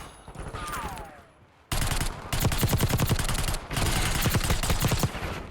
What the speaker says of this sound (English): Just getting shot at over here.